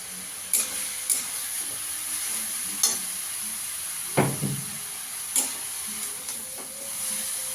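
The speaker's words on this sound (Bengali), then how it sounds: "ভালো করে মিশিয়ে নেব।" Cumin, ginger and green chili paste with coriander powder is stirred in a pan, soft scrapes and taps over a steady sizzle, with a louder clatter in the middle.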